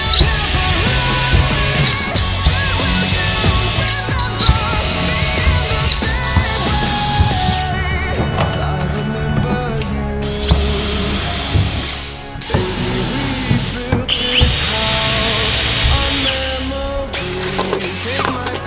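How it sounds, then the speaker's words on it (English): A power drill pre-drills pilot holes through the metal casing of a camper van skylight into the wood beneath, loud whining bursts that start and stop repeatedly with brief pauses, close up and alone. "we're going to pre-drill all of those, go through the casing, the metal, and just into the wood"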